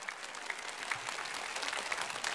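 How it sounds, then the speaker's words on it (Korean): A church congregation gives a brief burst of dense, even clapping that fills the room for a couple of seconds, with no talk over it. "박수."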